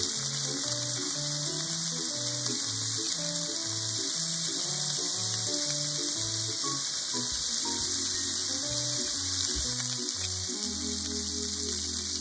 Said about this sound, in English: Place the pork onigiri on the frying pan with the pork cut side down.